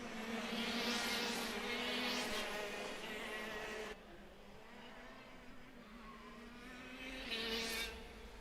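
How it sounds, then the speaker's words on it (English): Sodi racing karts lap a drying track at a kart sprint race in Rotorua, engines droning and whining past at a distance, fading midway before another kart swells closer near the end. "These Sodi karts have certainly come on a lot better since this track's dried out a little bit."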